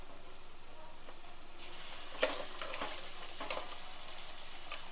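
Mutton pieces tipped into a hot pan for a home-style mutton curry, followed by a steady, loud sizzle and frying hiss with a few stirring scrapes, no talking.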